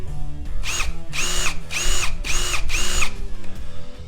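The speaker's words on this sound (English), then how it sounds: "We got the hardened drill bit tips, but it's just not getting past the extractor tool." Power drill with a hardened bit grinding into a broken bolt and stuck extractor on a spare Toyota 3B diesel engine, five loud whining bursts in quick succession with brief pauses between.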